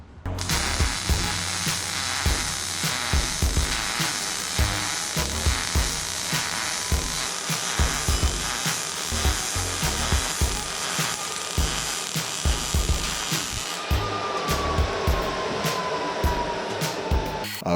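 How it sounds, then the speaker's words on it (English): A MIG welder runs a bead in a garage workshop, giving a continuous loud crackling buzz that holds steady for most of the run before cutting off near the end. "I basically am trying to lay down one hot line a day on the MIG just to get my practice in."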